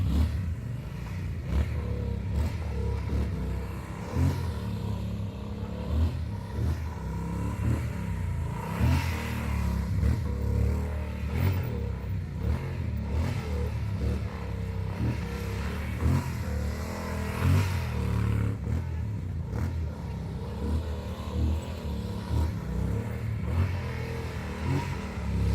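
A motorcycle fitted with MAP brake pads laps a short three-corner test circuit, its engine revving up and down continuously in repeated accelerations and decelerations, loud and close throughout with no voices.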